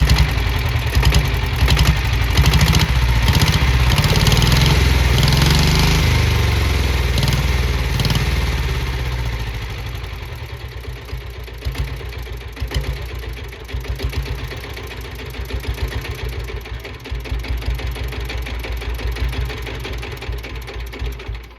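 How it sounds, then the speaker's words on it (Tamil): A 1972 Royal Enfield Bullet diesel single-cylinder starts with a loud, heavy low rumble, then settles into a steady, rapid knocking idle with a thumping exhaust beat that runs close and continuous. "So engine humming சவுண்டும் silencer out சவுண்டும் கேட்டிருப்பீங்க."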